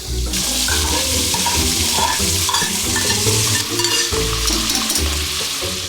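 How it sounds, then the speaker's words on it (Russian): Meat and onion fry hard in a hot pan, a loud, continuous sizzle with repeated scraping stirs and utensil knocks throughout, no talking. "Мясо обжаривается 3-4 минутки."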